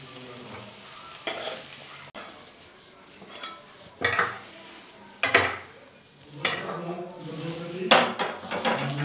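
Spoon and metal utensils clatter against a pan while fried potatoes with onion stalks are served, bursts of scraping and clinking separated by short quiet gaps, close and moderately loud.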